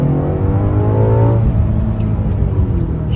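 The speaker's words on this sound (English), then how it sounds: "Another one of my absolute favorite things about this car is the downshift." Audi RS5 dual-clutch transmission downshifting automatically in sport mode, the engine note sweeping upward in pitch then settling into a loud, close, steady rumble, with no talking.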